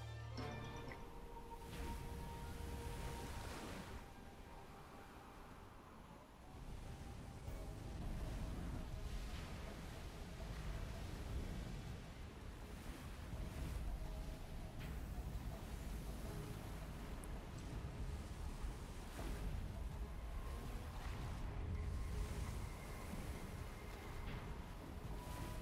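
Ocean waves and wind as a sinking freighter goes down in the Silent Hunter 4 submarine game: a steady, dense wash of surf and rumbling water continuing without pause and without talk.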